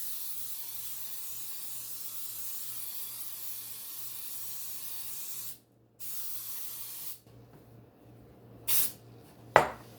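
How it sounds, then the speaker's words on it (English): Oil-and-flour baking spray hisses from a can onto an aluminum pan, a long steady spray with a short pause, then quieter light clatter and two brief bursts near the end. "we're going to spray the bottom and all the sides"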